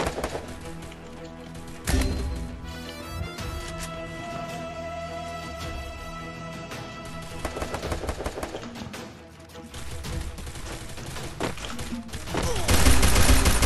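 Gunfire in a multiplayer shooting video game: rapid bursts of automatic shots and sharp single cracks over a steady game soundtrack, growing louder and denser toward the end.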